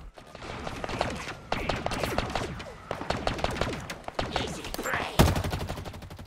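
Rapid bursts of automatic gunfire from the Halo Infinite video game, dense repeated shots with a sharp louder blast near the end, continuous and close.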